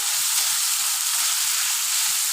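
Onion, ginger and garlic frying in a pan for an egg curry, a steady close hiss of sizzling oil with soft low stirring scrapes, no talk.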